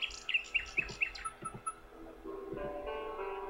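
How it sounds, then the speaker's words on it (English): A nightingale singing in the video game King's Quest VI, a run of bright chirps and short trills up front that gives way to a sustained musical tone. "A nightingale perches on a high branch of the tree. She sings the most beautiful song Alexander has ever seen."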